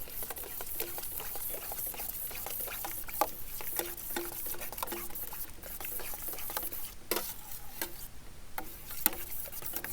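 Egg and chicken omelette mixture being stirred and whisked in a bowl, a continuous fast run of close tapping and clicking strokes without pause.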